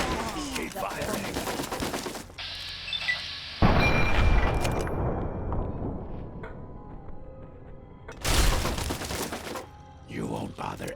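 Gunfire erupts in a modded Fallout 3 battle at Point Lookout: bursts of booming shots and impacts come in loud clusters separated by quieter ringing tails, with some game sounds in between.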